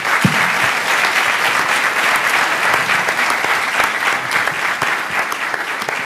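Sustained, loud applause from a conference audience after a keynote panel discussion, steady clapping filling the room for several seconds without pause.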